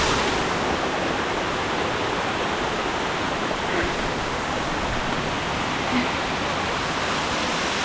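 Water pours steadily at the Ng Tung Chai waterfall on a hiking trail, a dense, continuous rushing roar close by with no break or change across the whole stretch.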